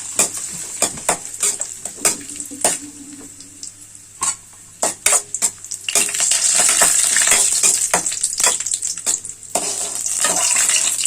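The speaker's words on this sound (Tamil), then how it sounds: "இந்த பக்கம் நெய்யில் கொஞ்சமாக திராட்சை போட்டு வறுத்துக்கலாம்" Raisins fry in ghee for Thai Pongal, with close, sharp clicks and scrapes of a spoon on the pan over a bright sizzle that swells louder in the second half.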